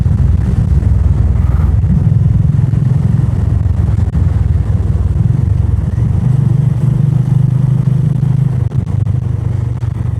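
Honda Highness CB350 motorcycle climbing a scenic hill road, feeling underpowered with a gear change attempted, its engine a steady loud low drone with wind rush and a brief dip in pitch near the end.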